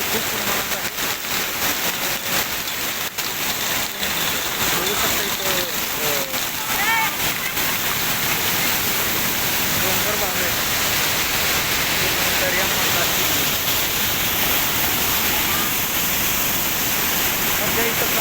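The big Amboli Ghat waterfall, swollen by heavy monsoon rain, pours in a constant loud roar of rushing water, with people talking over it.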